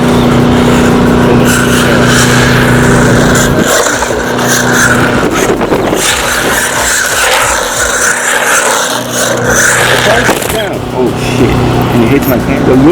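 An RC truck fitted with drift tires drives outdoors, its electric motor whining and rising and falling with scraping skids close by, while a person talks throughout.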